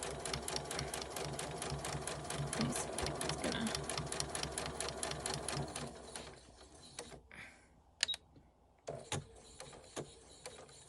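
A sewing machine with a quarter-inch flanged foot stitches a bucket hat in a fast, steady run that lasts several seconds, then breaks into a few short separate bursts against a quieter room.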